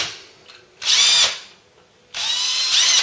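A power drill boring out a steel-pinned rivet on a Mk3 Ford Cortina during a classic car restoration, two loud high-pitched whirring bursts separated by a pause.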